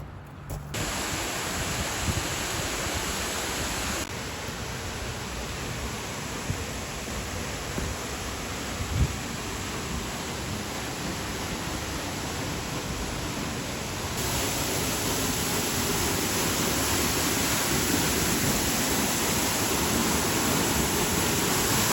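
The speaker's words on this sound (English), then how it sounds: "there is a waterfall right next to our campsite" Constant roar of a waterfall beside a campsite in Arches National Park after rain: broadband rushing water, close and loud, steady throughout and growing slightly stronger toward the end, with no voices.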